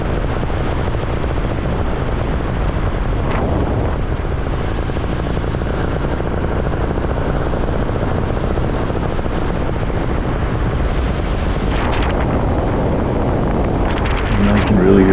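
Steady loud wind buffets the microphone against a constant idling paramotor engine drone in flight near Whistler, with brief gusts rising and falling over the roar.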